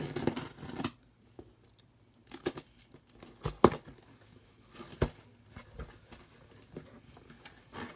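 Scissors snip and slice through packing tape on a toy car box, a series of sharp, close cuts and rustles separated by short pauses.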